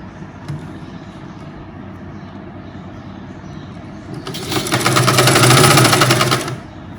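Sewing machine stitching a lining top, heard near and loud as a fast rattling run of stitches after a few seconds of quiet room hum, fading out at the end.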